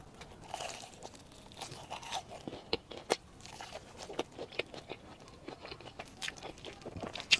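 Close crunchy bites into a crispy fried chicken leg dusted with chili powder, sharp crackling snaps and chewing recurring irregularly throughout, fairly quiet, with no talking.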